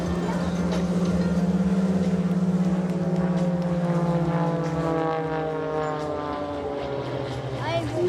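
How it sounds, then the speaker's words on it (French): Aerobatic propeller airplanes fly at the Menton air show, a loud droning engine tone that slowly shifts pitch as they reposition, with a commentator speaking over it. "les avions se replacent sur votre gauche"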